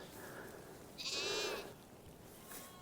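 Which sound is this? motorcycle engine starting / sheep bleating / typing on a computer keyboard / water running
sheep bleating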